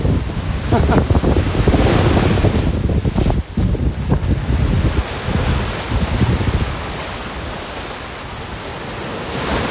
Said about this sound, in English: So this is Trig Beach now, folks.